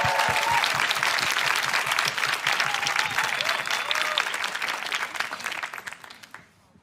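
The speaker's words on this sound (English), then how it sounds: "Please give them a huge round of applause." Audience at a live climate event applauding a moderator and guest, loud dense clapping with some crowd noise and faint whistles, fading out quickly at the end.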